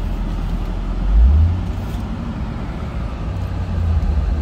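A 2006 Jaguar XKR idles close by, a low, steady engine rumble with a brief swell in the deep hum partway through and a constant mechanical drone.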